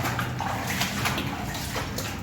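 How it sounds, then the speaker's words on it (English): Water sloshes and splashes continuously at close range as someone wades out of flooded water inside a gold mine, with uneven churning surges and no pauses. "So we're coming out of the water now"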